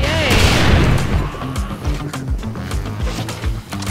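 Gunfire in the zombie survival game 7 Days to Die, a rapid burst of shots up front followed by a rhythmic run of repeated firing, loud and close.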